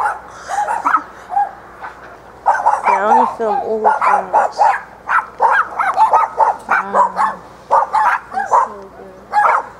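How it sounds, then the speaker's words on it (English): A dog barks repeatedly in short sharp bursts close by, the barks mixing with people chatting and laughing over it. "No, that's a dog."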